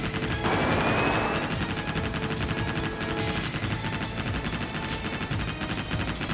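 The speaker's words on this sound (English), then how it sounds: "Come on, machine guns, you got it." Ship-mounted machine guns in Naval Ops: Warship Gunner 2 fire rapid, evenly spaced bursts throughout, loud and close, forming a steady rattling stream with no talking over it.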